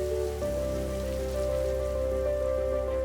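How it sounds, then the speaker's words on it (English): Rain falls steadily in a continuous even hiss, with a sustained tonal hum running underneath it. "Have you ever listened to the rain?"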